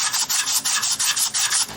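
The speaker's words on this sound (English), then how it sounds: "Let me grab some sandpaper and we'll start cleaning this thing up." Sandpaper scrubbing light surface rust off an engine part for a 1956 chop-top oval-window VW Beetle: quick, rhythmic back-and-forth rasping strokes, about a dozen in under two seconds, close and fairly loud.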